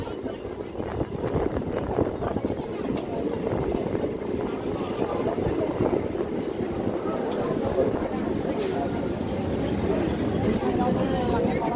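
A slow passenger train moving at about 25 km/h through dense fog on the way to Krishnanagar, with steady low rumbling of railcars and wheels, occasional faint high squeals, and a continuous murmur of voices underneath.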